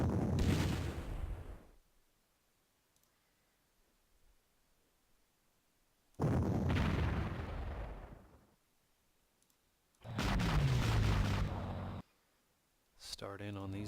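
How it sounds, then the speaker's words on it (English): Rocket artillery firing in the Panzer Corps war game: several loud booming bursts, each fading over a second or two, separated by quiet gaps, with a narrator speaking in between. "That rocket artillery is going someplace."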